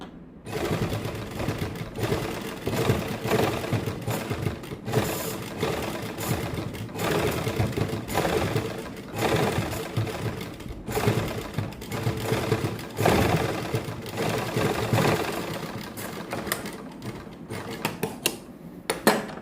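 A domestic sewing machine runs steadily, stitching along the edge of a plain suit hem with a continuous mechanical whirr and small speed changes, close and alone with no talk.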